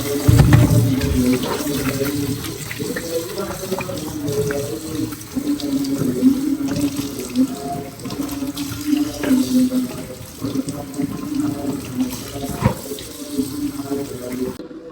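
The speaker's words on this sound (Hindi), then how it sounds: "अभी हम इसको वॉश करेंगे खुले वाटर में।" Chicken pieces for broast fried chicken are washed under an open kitchen tap, water gushing loudly and continuously into the sink with splashing as the meat is rinsed.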